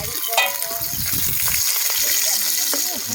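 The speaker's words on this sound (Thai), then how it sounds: "เราก็จะมาทอดนะ" Insects crackle and sizzle steadily as they fry in hot oil, with scattered pops and light stirring clatter, recorded close up.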